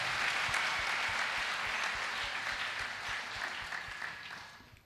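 Applause from a church congregation welcoming a guest at a Sunday service, a dense, fairly loud round of clapping that slowly fades.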